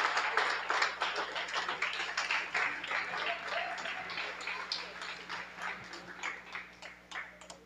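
A church congregation at a lively religious service applauding in dense, sustained rhythmic clapping that gradually eases, with voices mixed in beneath.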